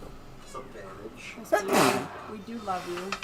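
A single sharp sneeze from a player at a tabletop Dungeons and Dragons game, bursting out mid-sentence amid close conversational talk.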